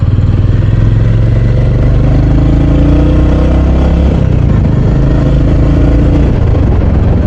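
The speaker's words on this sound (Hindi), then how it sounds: "घुट रहा है इंजन इसका, क्योंकि इसमें मैक्सिमम पावर कम है और इसमें लॉन्ग स्ट्रोक इंजन आता है" A Royal Enfield Hunter 350 motorcycle with a long-stroke engine laboring under load, a loud close low drone that rises and falls in pitch as it strains, with steady mechanical rumble and wind.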